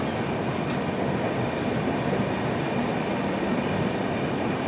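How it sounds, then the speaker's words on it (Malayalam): A passing Indian Railways train hauled by a locomotive in Amrit Bharat livery, heard as a steady, loud rumble of wheels and carriages rolling close by, continuous throughout with no talk. "ഇതൊരു അമൃത് ഭാരത് ലിവറിയുടെ ലോക്കോ ഉള്ള ട്രെയിനാണ്."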